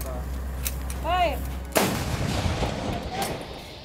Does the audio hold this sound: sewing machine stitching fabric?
no